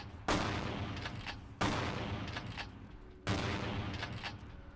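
Three loud, evenly spaced gunshots, each with a long echoing tail, fire from a .38 Special revolver in the video game Vampire the Masquerade Bloodlines.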